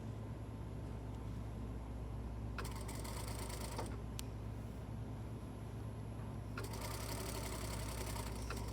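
Sewing machine stitching a shirt collar, starting partway through with a steady rapid mechanical whir, pausing briefly, then running again in a second stretch, close and moderately quiet over a constant background hum.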